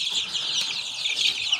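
Chicks in a home brooder, crowding toward feed, give a dense, continuous chorus of high peeping cheeps, fairly close and steady, with a brief flutter of wings.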